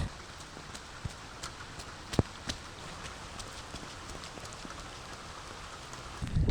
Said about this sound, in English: The rain's just starting to come down progressively harder, and I've had the wind in my face the whole time.